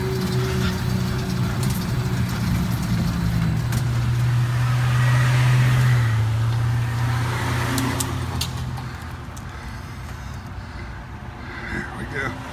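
An ELF pedal-electric vehicle pulls away on the road as the throttle is fed in slowly, a soft rising hum and rolling tire noise with passing traffic, while someone talks over it.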